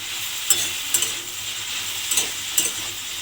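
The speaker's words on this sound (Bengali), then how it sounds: "আলু আর পটলটা দিয়ে খুব ভালোভাবে মিশিয়ে নিতে হবে।" Potatoes and pointed gourd being stirred in a pan, a soft steady frying hiss with a few sharp clinks of the utensil against the pan, no voices.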